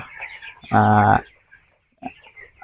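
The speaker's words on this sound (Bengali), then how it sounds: "খামারে যে মুরগিগুলো আছে মুরগিগুলো মনে আছে অনেক খুশি" Farm chickens in a poultry shed give one loud, brief call that stands out clearly. Fainter clucking follows after a short pause.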